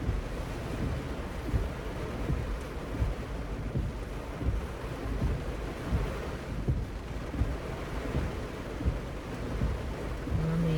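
Heavy rain pours down outdoors in a steady, dense roar that holds for the whole stretch, with small surges and no voices.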